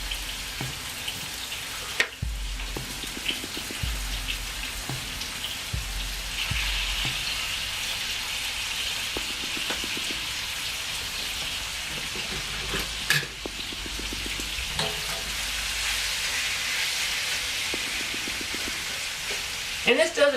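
Chicken cooks in a pan with a continuous sizzle and hiss, punctuated by occasional knocks and clatter, while a person talks intermittently over it.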